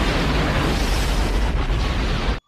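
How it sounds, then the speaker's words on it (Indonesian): A loud, continuous roaring blast with dense rumbling that cuts off abruptly at the end, like a massive explosion of erupting lava. "lava pun sampai di titik ujungnya, dan menyebabkan ledakan yang sangat dahsyat"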